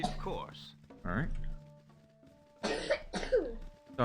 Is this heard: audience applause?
no